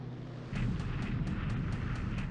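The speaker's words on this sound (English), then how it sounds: "Oh, all these units are taking fire now." Artillery fire in the War in the Pacific video game: a dense, continuous rumble of repeated blasts with regular sharp impacts roughly every quarter second, steady and fairly loud throughout after a brief quieter start.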